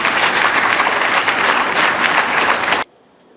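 Loud, dense audience applause at a presidential and business executives dialogue during the Kwahu Summit 2023, sustained and steady for nearly three seconds before cutting off abruptly into near silence.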